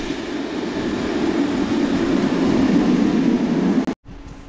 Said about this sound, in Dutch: Er komt trouwens aan de trein.